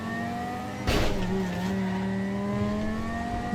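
A car in the GTA 5 video game drives and revs, with a steady engine hum. A sharp burst of impact or skid noise comes about a second in, and the hum carries on afterward.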